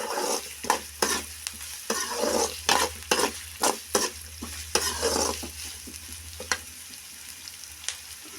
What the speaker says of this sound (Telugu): ఉల్లిగడ్డలు వేసుకున్న తర్వాత గంటి తీసుకొని కలుపుకుందామండి